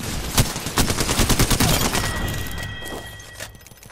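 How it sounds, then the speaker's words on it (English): Rapid gunfire from the Apex Legends video game, a loud burst of repeated sharp shots in quick rhythm, followed by a metallic ringing tail and a final crack as the firing dies down. "Shots fired."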